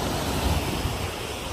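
Sea waves on the beach at Konyaaltı in Antalya, a loud steady wash of surf with wind buffeting the microphone, no voices.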